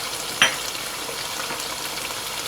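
Chicken liver and heart masala sautés on a high flame, a steady near sizzle with one sharp clink of a spoon early on, no voices.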